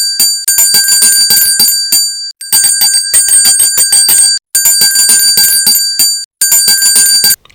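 A bell clangs repeatedly in Untitled Goose Game, ringing in four long bursts of rapid bright strikes separated by brief pauses, loud and close with no talking.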